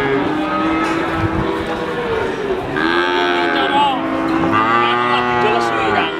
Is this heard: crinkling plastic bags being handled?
no